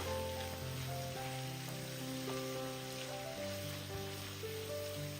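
Vegetables stir-fry in a pan with soy sauce and vinegar, making a soft, continuous sizzle that stays faint beneath music.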